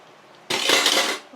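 Oil pours into a pan of cooked chicken with a sudden loud burst of sizzling that holds steady for under a second before fading, close and alone.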